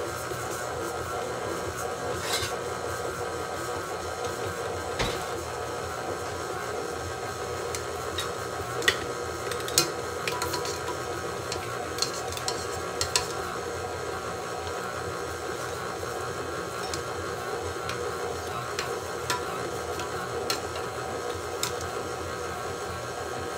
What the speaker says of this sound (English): put my mixer down, lock it in place, turn it on, mix it up real good.